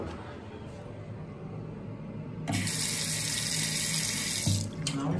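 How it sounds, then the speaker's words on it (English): A newly installed tap is turned on after a quiet moment, and water gushes in a steady hiss for about two seconds before it is shut off again. "Should we test the water"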